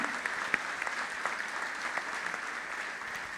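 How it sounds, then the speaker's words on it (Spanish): A gathered congregation at a 45th-anniversary church celebration gives a brief round of applause, a continuous rush of clapping hands with a few sharper individual claps standing out near the start. "Denle un aplauso a ese Dios que nos ama"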